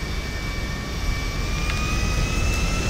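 A Nimbus private luxury jet in GTA 5 produces a steady, loud jet engine roar with a sustained high whine, continuous and unbroken throughout.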